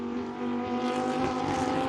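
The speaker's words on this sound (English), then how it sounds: "These Lamborghini Huracans approaching 170 miles an hour before jumping on the brakes" Lamborghini Huracan race cars in the Super Trofeo series screaming past at close to full speed at Road America, a loud continuous high-revving engine roar with a steady harmonic whine that swells slightly as they pass.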